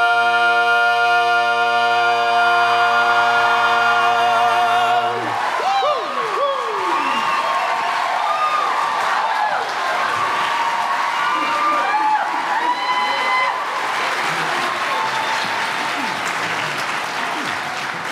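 After a sustained sung chord from a barbershop quartet, a South Carolina audience bursts into loud, continuous applause with cheering and whoops that fill the room.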